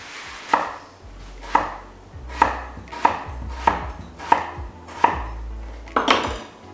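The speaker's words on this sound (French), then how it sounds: "les pommes de terre simples, on les prend, on les coupe en deux" A knife chops through simple potatoes on a board, cutting them into slices for homemade poutine fries: about seven sharp, evenly spaced cuts roughly a second apart, close and clear, with no talking.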